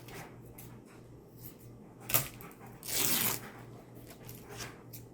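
Fabric being torn by hand into a strip for shabby chic clear tags gives two rough ripping bursts close up, a short sharp one followed by a longer one, amid quiet handling noise.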